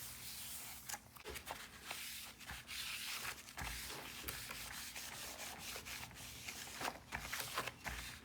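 A cloth wiping across a cracked-effect 3D resin piece, repeated scratchy rubbing strokes in an irregular rhythm, close and fairly quiet, with no voices.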